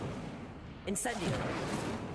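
Incendio fire spell cast in Hogwarts Legacy, a sudden whooshing burst after a quiet start that flares then settles into a sustained roar, with a voice beneath it.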